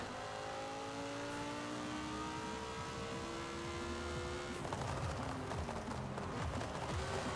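A Lamborghini Gallardo engine revs hard as it accelerates out of a turn in second gear, its rising harmonic whine climbing steadily, then swelling into a louder, rougher roar near the end, close and without talk.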